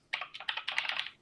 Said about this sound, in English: Stop smashing your keyboard